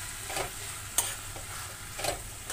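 Soybean granules are stirred into a capsicum masala in a frying pan, soft sizzling broken by a few distinct scraping strokes of a spoon against the pan, close and fairly quiet.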